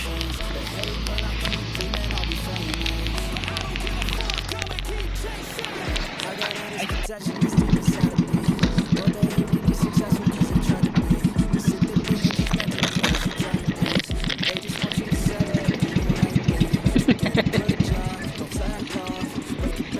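A boat's motor, which keeps stalling, chugs with a rapid, rhythmic putter, briefly cutting out before restarting louder and running steadily, with faint talk in the background.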